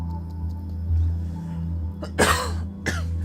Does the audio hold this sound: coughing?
yes